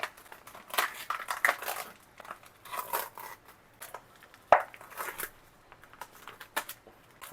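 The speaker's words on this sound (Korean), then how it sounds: "포장지 비닐 벗기고" Plastic wrapping peeled off a package of chicken meat, heard as close, irregular crinkling and tearing bursts with one sharp snap midway, no talking.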